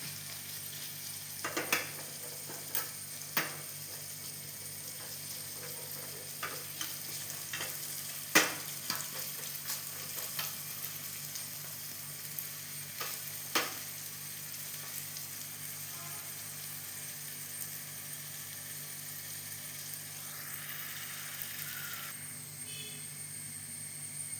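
Onion with turmeric, chili and masala powders, green chili and ginger frying in a pan for a chickpea curry, a steady quiet sizzle with scattered soft stirring clicks and no voices.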